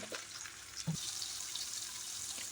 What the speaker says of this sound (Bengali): আমি দিয়ে দিচ্ছি এখানে থেতো করে নেওয়া রসুন আর পেঁয়াজ ভালো করে ভেজে নিতে হবে